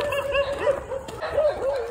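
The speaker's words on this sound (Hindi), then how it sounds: "और सारे डॉग्स भौंक रहे हैं।" Several dogs barking and yipping at night near a forest entrance in India, a chorus of repeated barks with some whimpering tones, moderately close and continuous.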